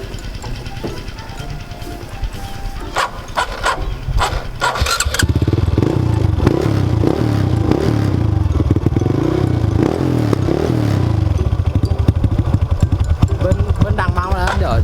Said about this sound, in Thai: เดี๋ยวให้ฟังเสียงเครื่องอีกทีหนึ่ง